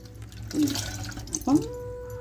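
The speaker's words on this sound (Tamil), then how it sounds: "நம்ம புளி எடுத்துருக்கோம் லேசாக வாஷ் பண்ணிக்கிடுவோம்" Tamarind being rinsed in a bowl of water, with two brief splashy sloshes of liquid over a steady low background hum, close by and moderately loud.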